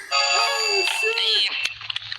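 A telephone ringtone trills loudly for over a second, then cuts off into brief scattered noises.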